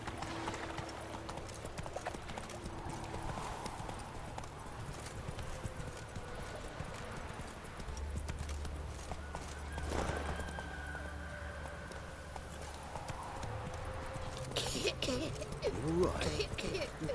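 Horse hooves clip-clop at a gallop in The Witcher 3: Wild Hunt, a steady drumming rhythm running throughout over low game ambience and music, with occasional voices speaking briefly in the background.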